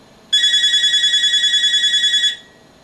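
A phone rings during a talk: a loud electronic tone pulses rapidly and evenly for about two seconds, then cuts off and leaves quiet.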